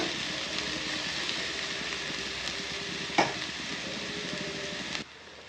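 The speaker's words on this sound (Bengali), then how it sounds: "পেঁয়াজ রসুনের একটা তো গন্ধ থাকে, সেটা আলাদা করে একটু ভেজে নেব।" Onion and garlic paste fries in a pan with a continuous bright sizzle and crackle, and one short stirring clatter near the end before the sound drops away.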